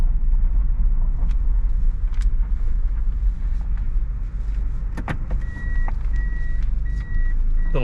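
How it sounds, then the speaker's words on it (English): A reversing beeper in a 1990s Toyota Estima (Previa) van chimes in a steady repeated pattern inside the cabin, over a constant low engine and road rumble, with no one talking. "Little beeper just to let you know that you're in reverse."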